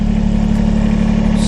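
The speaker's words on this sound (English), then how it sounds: "start the tractor up" Kubota BX23s compact tractor with LA340 loader, its engine running steadily at a close, even idle throughout with no talk.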